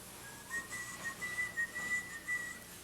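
A person whistles a tune on a school stage production, a thin clear melody of short connected notes, moderately quiet over faint room hiss, with no talk.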